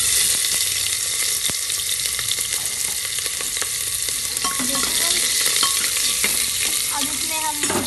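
Onion and green chilies frying with whole spices in a pan for taheri, a loud steady sizzle with scraping stirring strokes throughout, no voices.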